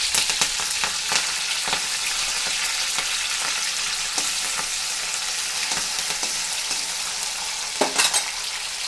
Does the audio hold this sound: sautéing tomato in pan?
yes